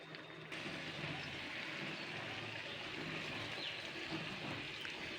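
Half a cup of water poured into a pan over a tomato batter for a fish egg dish, a steady close splashing wash that runs the whole time without talk.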